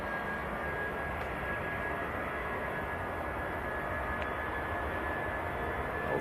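All-white Boeing 737 jet taxiing out at Manchester Airport, heard as a steady, distant engine rumble and whine with a faint high tone running throughout and no speech.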